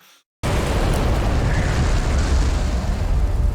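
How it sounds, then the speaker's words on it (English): An animated beam weapon fires a blast that bores through a mountain. After a brief silence comes a sudden loud, continuous roaring explosion that stays dense and rumbling to the end. "It's a serious beam weapon. Holy moly, it made a hole through the mountain."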